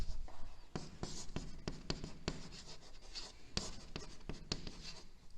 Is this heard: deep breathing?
no